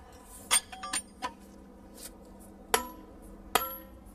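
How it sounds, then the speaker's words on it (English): Hammer striking steel plug and feathers set in stone to split it, several sharp ringing metallic clinks spaced irregularly, the last two loudest and clearest. "it's called delving, and using plug and feathers"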